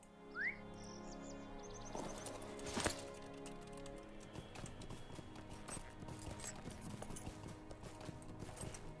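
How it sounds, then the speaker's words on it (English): A horse gallops in the online game Lord of the Rings Online, its rhythmic hoof clip-clop running continuously at moderate volume, with chirping birdsong from the game world heard over it. "So let's get on the horse."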